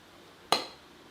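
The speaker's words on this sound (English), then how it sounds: "Mix that through." A single sharp clink of a spoon against a bowl while mixing pol sambol, Sri Lankan coconut relish, with chunky onion and tomato, ringing briefly and fading, close and fairly quiet.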